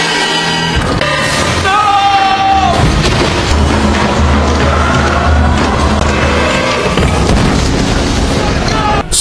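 A heavy explosion blowing up a tomb, a loud deep boom with rumbling debris that sustains at full level for several seconds, with a short rising whine early on.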